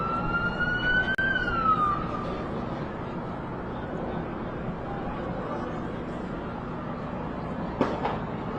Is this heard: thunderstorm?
no